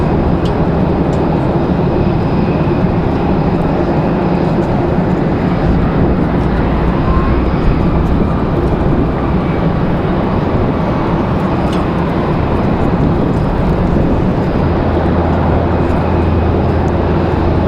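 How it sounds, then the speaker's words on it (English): A small Cessna plane takes off from Raleigh Durham International Airport, its engine a loud, steady, close drone that holds even and unbroken throughout. "A little Cessna, ready for departure."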